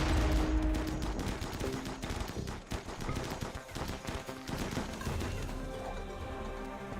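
Defensive gun turrets in RimWorld fire in a dense, continuous barrage of rapid shots, crackling bursts overlapping without pause at steady loudness.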